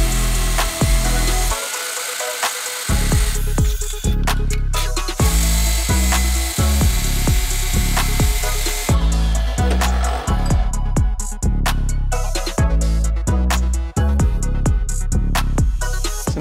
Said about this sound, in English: and I'm going to cut them with a grinder.